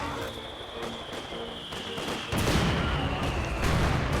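Artillery shells and gunfire in a Company of Heroes 2 battle, with booming impacts and crackling small-arms bursts, loud and fairly near, swelling into heavier continuous barrage after a sharp blast midway.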